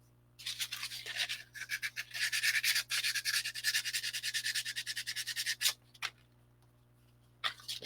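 Sandpaper is rubbed by hand in quick, even back-and-forth strokes, up close, forming a dense scratchy rhythm for about five seconds. A few scattered strokes follow after it stops, with no speech.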